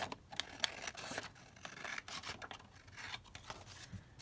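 Scissors trim paper for a junk journal in quiet, close snips and rasping cuts, a soft run of short strokes with no talk.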